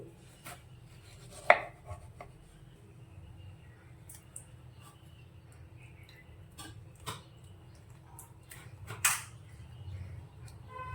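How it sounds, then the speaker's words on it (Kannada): A knife cutting a large mango to remove the pulp: sparse, quiet cutting taps and a few sharper knocks against a board, spread over a low hum. "ದೊಡ್ಡದ ಮಾವಿನಹಣ್ಣು ಕಟ್ ಮಾಡಿ ಪಲ್ಪ್ ತಕ್ಕಂತೀನಿ"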